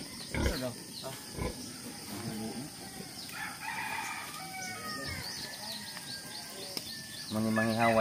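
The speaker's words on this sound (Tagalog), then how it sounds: "Ayan, nililinisan na yung baboy." A pig squealing in bursts while being cleaned on a rural farm in Bohol, Philippines, amid chickens clucking and crowing and people talking in the background.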